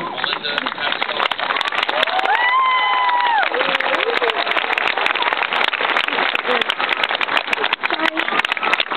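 Audience applause and cheering at a 2010 Rocky Point high school graduation ceremony welcoming the class valedictorian, a dense, steady crowd clapping that fills the room, with a brief voice or tone rising above it near the start.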